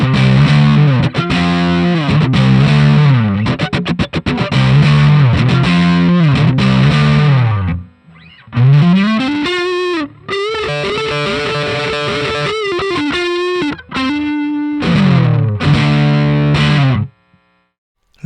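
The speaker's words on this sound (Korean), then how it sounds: "소리는 퍼즈 성향이 짙은 디스토션이라 생각하고" Electric guitar through a fuzz-leaning distortion pedal plays loud, thick, saturated riffs and sustained bends with brief gaps between phrases, close and alone for the whole stretch.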